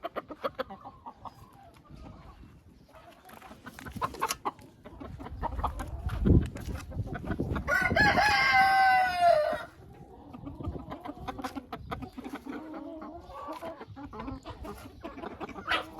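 Chickens in a henhouse, including silkie hens, clucking and murmuring softly at close range, with a rooster's loud crow rising in the middle before the quieter clucking resumes.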